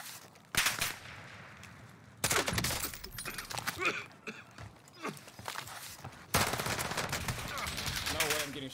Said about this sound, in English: Getting shot on my back right now.